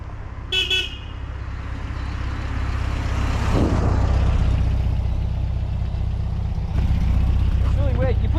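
Air-cooled VW Beetle engine on a test drive, hesitating under throttle with a rough steady engine and road drone throughout, a brief horn-like toot near the start and a voice under the noise.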